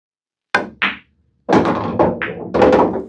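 A pool cue strikes the ball on a billiards table, followed by a sharp ball-on-ball click and then the ball dropping and rolling into the side pocket with hollow thuds and rattling.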